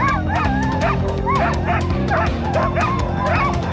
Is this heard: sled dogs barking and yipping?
yes